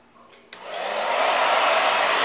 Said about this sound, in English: So we're going to blow dry this boy hair.